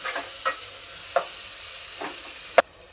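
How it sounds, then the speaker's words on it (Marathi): Tomatoes stirred with chutney in a frying pan, a soft sizzle under four or five distinct scraping stirs of a spoon against the pan, the last one loudest. "टमाटर टाकूया। टमाटर मिक्स करून घेऊ।"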